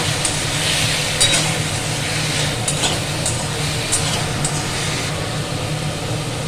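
Watermelon rind and poppy-seed paste sautéed in oil with a little sugar sizzles steadily in a pan, with repeated scraping stirs and occasional utensil clinks, close and continuous.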